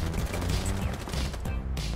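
Rapid gunfire from the tactical shooter Rainbow Six Siege, a dense, continuous burst of shots lasting about two seconds, loud and close with no voices over it.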